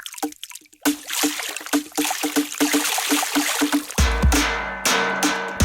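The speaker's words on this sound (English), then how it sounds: "Water hit." A water hit one-shot from Klevgrand's Forest nature percussion library sounds as short splashy, dripping hits in a quick irregular pattern, then a deeper heavier splash with a low thump, all dry and close.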